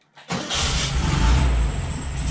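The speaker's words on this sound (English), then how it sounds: "we have a running car" A fire-damaged 1971 VW Super Beetle engine, freshly rewired with new ignition switch, cranks and catches, then settles into a loud, steady running idle close by.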